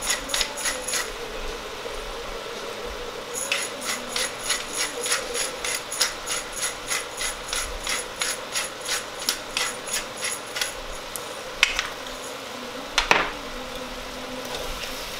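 Seasoned meat with onion, salt and pepper being mixed for a meat lasagna: a close, even run of quick rhythmic scraping strokes, with a couple of sharper knocks near the end and no talk.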